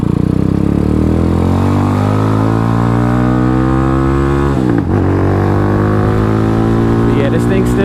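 A Venom X22R (DF250RTS) motorcycle pulls hard in second gear, its engine droning loudly and steadily with rising pitch, a brief dip near the middle, heard up close with wind roar throughout.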